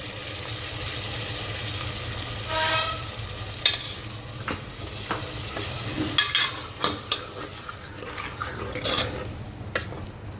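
Stirring and sizzling as tamarind juice with salt and chili goes into partly cooked vegetable pieces for sambar rice, with spoon scrapes and clinks against the pot over a steady background bubble.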